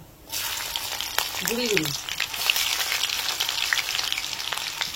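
Chopped garlic and black cumin sizzle in hot oil with a bright, crackling hiss that bursts in suddenly and stays loud and close, while a brief spoken phrase sits under the frying.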